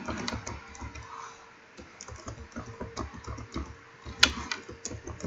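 Rapid keystrokes on a computer keyboard while typing an axis label into an Excel chart, a steady patter of light clicks close up, fairly quiet with one sharper tap near the end.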